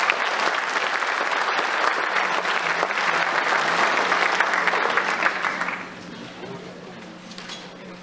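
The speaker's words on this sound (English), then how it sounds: "Give them a round of applause, please." An audience at a school jazz night applauds alto saxophone soloists, a loud, dense round of clapping that holds for about five seconds, then drops off into scattered claps and a faint, quiet room.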